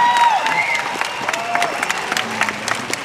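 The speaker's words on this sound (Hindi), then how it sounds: "जोरदार तालियां आर्य कॉलेज पानीपत के लिए।" Loud applause and cheering from a large audience at a college event in Panipat, dense clapping with whoops and shouts carrying on steadily from start to finish.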